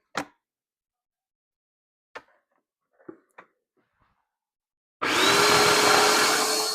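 Food processor chopping potatoes switches on partway through, a loud, steady whirring motor roar with a rising whine, after a few quiet clicks and knocks.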